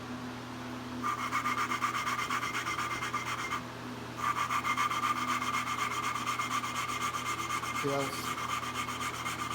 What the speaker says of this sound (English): You're going to hear it kind of like a real rough grind at first, and then it's going to smooth it out and get quieter.